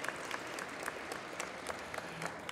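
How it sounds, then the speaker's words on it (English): Soft, distant-sounding audience applause for board members at San Francisco's 2013 APA Heritage Month celebration, steady scattered clapping with a few sharper claps, no talking over it. "Please give them a round of applause."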